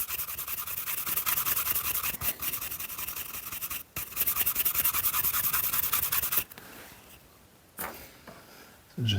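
A bone folder rubs firmly back and forth over stitches on crocodile leather, giving a close, dense scraping that runs in quick strokes for several seconds before easing into quieter rubbing and handling noises.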